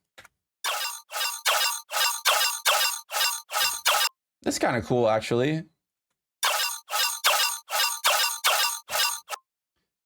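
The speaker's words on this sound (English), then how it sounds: "what's making this sound interesting is the modulation of these octaves. That's what's kind of giving it that robot effect." A synthesizer layer with modulated octaves pulses in sharp, evenly spaced bursts, giving a choppy robotic effect, with a break in the middle where someone briefly speaks before the pulsing resumes.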